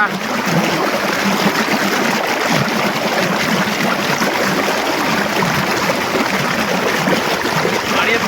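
Irrigation water pouring steadily into a rice paddy field on a Punjabi farm, a continuous close rushing and gurgling flow that stays loud and even throughout.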